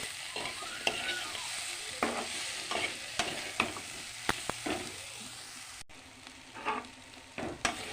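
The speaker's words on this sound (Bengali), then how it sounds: "মেটে আলুগুলি দিয়ে দেবো পরিমাণ মতো নুন দিয়ে দেবো এখন আবার ভালোভাবে একসাথে মিশিয়ে নেব" Yam pieces with spices and salt being stirred in a pan, a soft continuous sizzle broken by repeated sharp spatula clacks and scrapes at irregular intervals.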